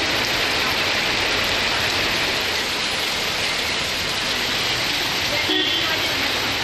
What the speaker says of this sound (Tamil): பலத்த காற்றுடன் மழை பொழிந்தது